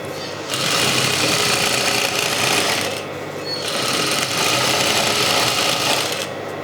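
A domestic sewing machine hems a dish towel with a fast, steady whir. It runs in two loud bursts split by a brief pause near the middle. No voices are heard.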